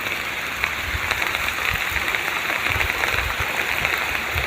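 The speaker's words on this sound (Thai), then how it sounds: "ฝนแรงแล้วท่าน" Heavy rain pours steadily at a coffee planting site, a dense continuous hiss of drops drumming on surfaces throughout, close and loud, with no voices.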